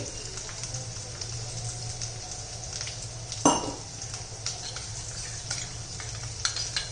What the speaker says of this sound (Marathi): चांगलं गाजर मऊ होईपर्यंत आपल्याला हे परतत राहायचं